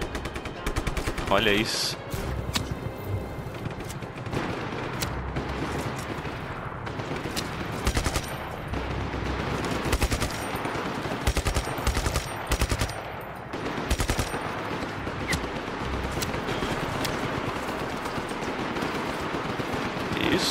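Rapid machine gun fire in the video game Just Cause 3, dense and continuous bursts of automatic shots crackling throughout, with someone briefly speaking over the din.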